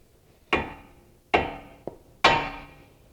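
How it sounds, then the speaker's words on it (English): Three sharp metallic hammer blows ring out on a bolt to free the outer tie rod of a 2013 Honda Fit, evenly spaced and each decaying with a ring. A lighter tap falls between the last two. "we're just going to hammer the bottom of this bolt here, and that should free it up"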